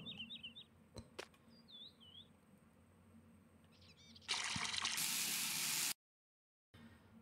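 Water gushes into a bucket in Farming Simulator 19, a loud steady rush that starts abruptly, runs about two seconds, cuts off, then resumes briefly, after faint bird chirps and ambient farm noise.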